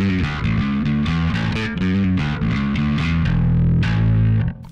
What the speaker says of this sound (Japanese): B7K の元々の歪みは